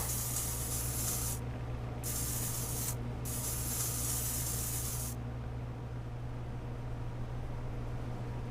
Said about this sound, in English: Spray this area.